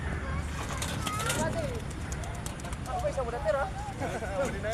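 Racing pigeons are released from a truck at a race in Mulanay, Quezon, with wingbeats and soft cooing under a voice talking close by.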